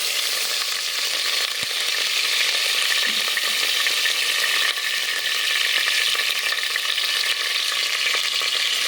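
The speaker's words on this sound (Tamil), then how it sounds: "கொஞ்சமாக கருவேப்பிலை ஆட் பண்ணுறேன்" Curry leaves crackle in hot oil, giving a bright, continuous sizzle that stays steady throughout, close and fairly loud, with a brief soft clink early on.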